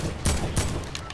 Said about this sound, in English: let's shoot these motherfucking bastards down